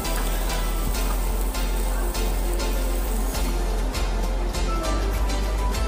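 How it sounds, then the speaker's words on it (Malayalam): Chicken frying in a pan gives a loud, continuous sizzle with occasional scraping knocks as it is stirred, close and steady throughout. "അപ്പോൾ നന്നായിട്ട് ചിക്കൻ ഫ്രൈ ആയി"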